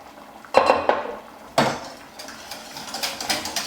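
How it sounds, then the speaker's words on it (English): A spoon stirs milk into a white sauce for beef lasagne, opening with a few sharp metallic clinks against the pan and settling into softer, repeated scraping strokes. "Give it a good stir"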